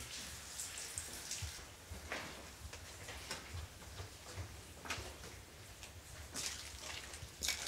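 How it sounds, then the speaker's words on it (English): Faint water falling down stairs and trickling in a steady wash, with scattered drips and taps, distant and quiet in an echoing space of an abandoned asylum. "This is that room with all the water falling down the stairs"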